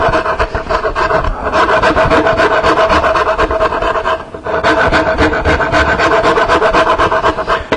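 A Nicholson cabinet maker's rasp, number 49, files the corners of a wooden knife caddy in loud, rapid back-and-forth rasping strokes, continuous and close, with a short pause midway.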